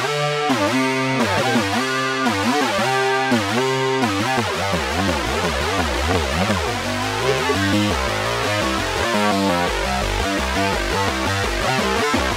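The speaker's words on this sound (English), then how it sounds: "So it becomes like a monophonic synth, but with 6 oscillators." A Juno synthesizer with all voices stacked into one monophonic bass line, five oscillators since one is broken, plays a thick, buzzy, detuned pulsing riff with sliding pitch sweeps, loud and continuous with no talking.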